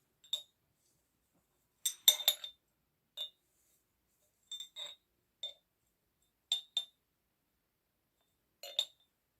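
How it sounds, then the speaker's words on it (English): Metal clinking against a glass jar of dried herbs and clover buds, in short sharp clinks and small clusters spread across the stretch with quiet gaps between them, close and fairly light. "apologies for the noises, the metal on glass"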